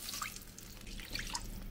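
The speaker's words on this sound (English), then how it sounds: "Pour it in a pan." Water being poured into a pan at a desert campsite, heard as faint close-up drips and small splashes over a steady background rush.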